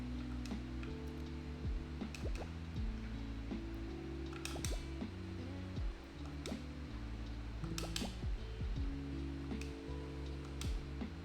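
In the Wipeout level of the video game Lofi Ball, watery squishes and drips pop over a looping lo-fi musical backing, with sharp splashy bursts recurring every few seconds at moderate volume.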